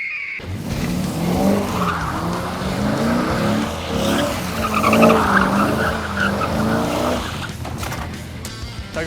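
A tuned C6 Corvette doing donuts, its tires squealing in a long, continuous screech under a roaring engine, close and loud for several seconds.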